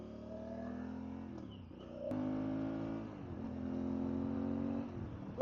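A Honda XL1000V Varadero motorcycle accelerates during a ride, a fairly faint engine drone rising in pitch through the gears with a brief dip between shifts.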